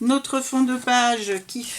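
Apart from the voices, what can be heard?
No everyday noise stands out behind the speech.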